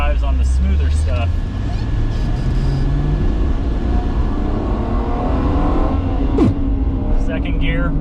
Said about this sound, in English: The Busso engine sounds great, and it's got lots of power